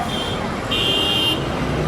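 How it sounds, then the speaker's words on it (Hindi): Dense street traffic roars steadily through a busy road in Chittagong, Bangladesh, with a car horn sounding in sustained blasts over the continuous rumble. "तो ये है जनाब चिटागोंग की सड़कें और चिटागोंग की गलियाँ और यहाँ का रश और यहाँ का शोर।"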